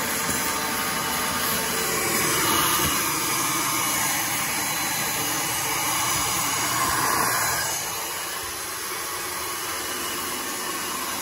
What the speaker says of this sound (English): All right, we'll turn the vacuum on.